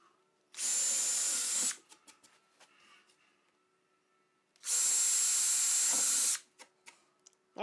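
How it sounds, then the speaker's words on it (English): A power drill set to speed 2 whines loudly through wood for about a second, goes quiet amid small clicks, then bores a second, longer hole. "make sure we set the drill. Speed 2, and we want 2 holes."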